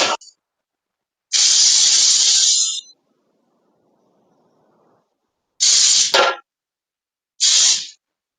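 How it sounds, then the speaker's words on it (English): Three loud hissing bursts of cooking spray onto a 9 by 13 inch baking pan, one long and two shorter, separated by silence, close to the microphone. "So let's spray that real quick."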